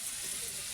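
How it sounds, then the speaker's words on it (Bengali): Chicken feet with the skin still on fry in hot oil. They make a steady, bright sizzle and hiss throughout the moment, with no break. "চামড়ায় দেখেন চামড়া শুদ্ধা ফ্রাই করতেছে আজ"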